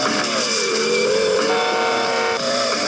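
Car engine droning steadily while driving off-road in a video game, with a continuous rising and falling motor whine and no talk over it.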